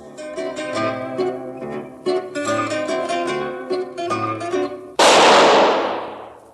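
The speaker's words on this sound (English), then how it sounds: "That was the shot that killed Harry Lime." A single sharp, loud gunshot rings out with a ringing decay in an old-time radio drama, cutting in after a passage of plucked zither music.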